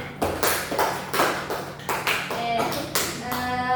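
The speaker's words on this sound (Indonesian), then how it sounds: "Wih, tepuk tangan." Classroom students clap in a few distinct bursts of sharp, close hand claps, with short pauses between them and faint voices around.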